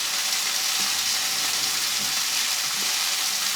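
Pork chops sear in a hot pan with a steady, close sizzle and crackle that holds evenly throughout, with faint stirring clatter and no talking.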